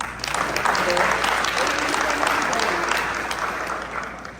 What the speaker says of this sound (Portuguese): Uma salva de palmas para todo mundo